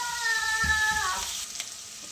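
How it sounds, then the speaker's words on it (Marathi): Masala paste with tomato and chilli sizzling in a hot pan, a steady close frying hiss with faint stirring, no speech. "चला टॅमॅटो आणि मिरची टाकली तर मस्त तिथून शिजवून घेऊया"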